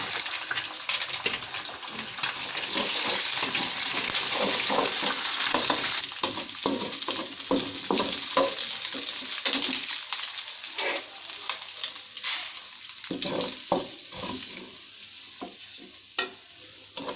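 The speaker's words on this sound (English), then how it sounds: "Put the oil, fry the egg into scramble and set aside." Egg scrambling in oil in a pan makes a close, continuous sizzle with repeated scraping stirs throughout, gradually easing toward the end, with no voices.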